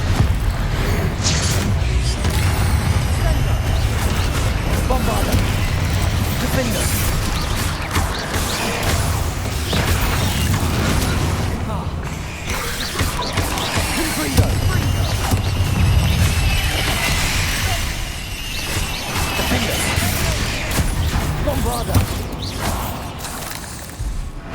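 Repeated Confringo blasting-curse explosions in the Hogwarts Legacy video game, loud booming bursts and crashing impacts layered over a dense, continuous mechanical din of magical combat that runs throughout.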